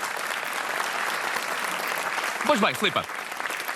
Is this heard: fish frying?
no